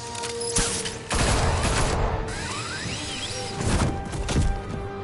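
Dense bursts of gunfire from a Batman video game come in heavy volleys, loud and close, with a lull in the middle and game noise around them.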